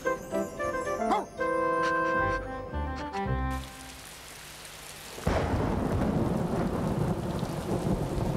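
Deep rolling thunder breaks out over steady rain, after a stretch of tinkling, chiming tones; the storm sound stays loud and continuous.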